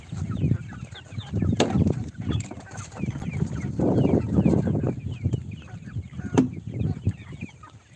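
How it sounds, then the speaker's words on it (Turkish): Chicks and chickens crowd together in a farmyard in Develli, Kayseri, clucking and peeping continuously, close and busy with overlapping calls. "Bunlar da benim civcivler, tavuklar"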